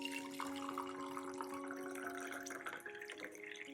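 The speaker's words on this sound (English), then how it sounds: "I pour boiling water over it and let the ginger steep for about 20 minutes" Boiling water poured from a kettle over grated ginger in a saucepan in a home kitchen, a faint steady trickle and splash over a hum of tonal background sound, with no one talking.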